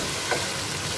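Tomatoes frying in a pan while being stirred, giving a steady broadband sizzle with a brief scrape of stirring, alone and fairly close.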